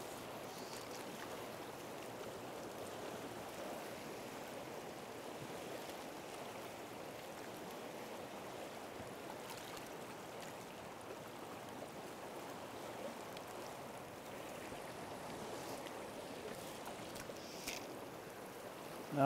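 Heavy, fast river current rushing steadily along a spey-fishing run, a broad continuous wash of moving water with no pauses or talk.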